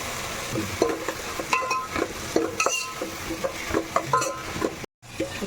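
Mint leaves sizzle in hot oil as a utensil stirs and scrapes the pot, with irregular clinks and a brief silence near the end.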